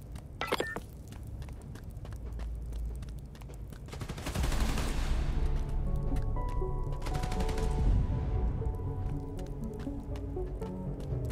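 Gunfire from looters in Spider-Man: Miles Morales, with bursts of shots over a steady bed of game sound, the shooting growing denser and louder partway through.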